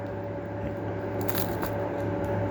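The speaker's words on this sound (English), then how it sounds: "He loves chewing them up." A pet rabbit gnaws and chews on toys held for it, giving soft, close crunching and nibbling sounds over a steady background hum, with a brief burst of crisp bites in the middle.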